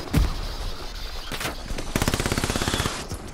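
Rapid machine gun fire in a World War II Eastern Front shooter, a sharp shot early on followed by a long steady burst of evenly spaced rounds, loud and close.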